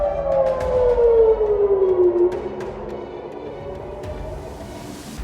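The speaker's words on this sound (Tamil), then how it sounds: "ஜெருசலேம் நகர் முழுவதும் சைரன் ஒலிக்கப்பட்டு வருகிறது" A civil defense air raid siren sounding across Jerusalem wails loudly, its falling tone sliding downward and then fading into a distant, lingering drone.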